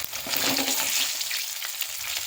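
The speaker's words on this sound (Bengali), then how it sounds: "এই বাকি মাছগুলো এর মধ্যে দিয়ে দিয়েছি, ভাজা হচ্ছে না এগুলো।" Katla fish heads rubbed with salt and turmeric frying in hot oil, a close bright sizzle and spatter, strongest early then easing slightly.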